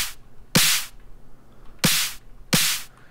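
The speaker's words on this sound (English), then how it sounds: "it helps bring out some of the punchiness of that snare in particular" A snare drum run through a saturator plugin hits three sharp, punchy times at a slow, even pace, loud and dry with short bright decays, alone with no talk.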